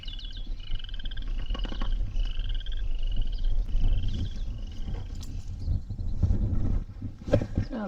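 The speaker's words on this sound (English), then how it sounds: "A big old frog on the bank here." A frog on a creek bank croaks in a series of repeated rasping calls over low rumbling wind noise, fairly near, with some knocks and handling sounds toward the end.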